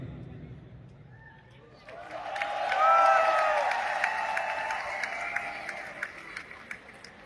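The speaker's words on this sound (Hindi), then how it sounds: "बस इतनी ताली।" Audience clapping at a product presentation, starting faint, swelling into fuller applause and then thinning to scattered claps, with a voice speaking early on.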